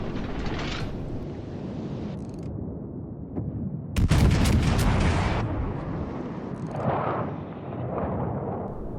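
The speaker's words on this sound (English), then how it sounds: "I do love the sound of the King George's cannons" Heavy booming cannon fire from the battleship HMS King George V in a naval battle game, a big blast cutting in midway over a constant roar of game combat and rumbling explosions.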